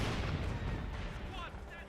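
A Centaur anti-aircraft tank fires in a Company of Heroes 2 4v4 battle, a dense, continuous rattle of rapid gunfire blended with booming battle noise. It stays loud throughout, with voices talking over it.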